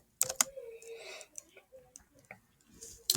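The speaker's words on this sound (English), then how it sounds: "Oh my gosh, I can't type." Quick bursts of keyboard clicks come close and fairly clear, several irregular keystrokes in short clusters with pauses between.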